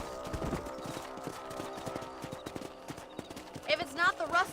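Horse hooves clip-clop in a steady galloping rhythm in Red Dead Redemption on PS4, loud and close under game music, with a horse whinnying near the end.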